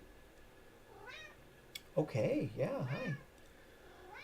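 A domestic cat meows near the microphone indoors, first a short call, then a longer wavering run of meows and another call at the end, with a person speaking a few brief words.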